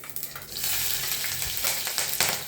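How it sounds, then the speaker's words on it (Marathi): Cumin seeds hit hot ghee in a pan and sizzle loudly, a dense crackling hiss that rises quickly and stays steady, close and alone. "तूप छान गरम झाले. त्याच्यात जिरे घालून घेऊया."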